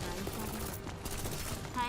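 Dense, rapid gunfire rattles continuously in the video game Girls' Frontline 2, with overlapping bursts of shots and a busy, chaotic mix of sound effects.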